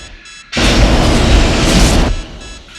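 Automated sentry guns in the Aliens film firing a sustained, loud roar of rapid gunfire for about a second and a half, starting abruptly and cutting off sharply, with no voices.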